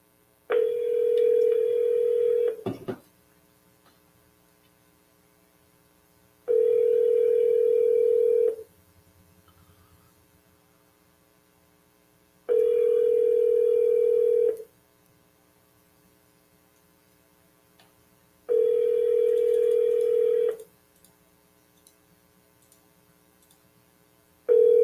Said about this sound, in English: I can't find the phone. I hear it, but I can't find it.